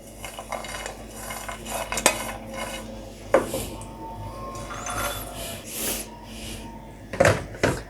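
Walnuts tumble into a pan while making panjeeri, with scattered clinks, scrapes and knocks of nuts and a spoon against the metal, loudest in a few sharp hits.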